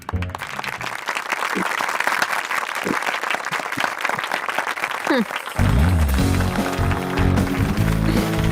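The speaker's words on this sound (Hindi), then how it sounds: "तालियां।" Audience applause fills the space with dense, fairly loud clapping for several seconds, then gives way midway to a louder burst of music-like sound that takes over.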